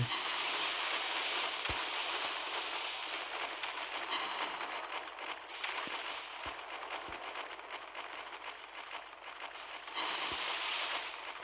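Torpedo hits and explosions sound in the naval battle game Naval Creed: a steady broad rumble of ship noise with several sharp thuds and bursts spread through it, moderately loud, with no talk.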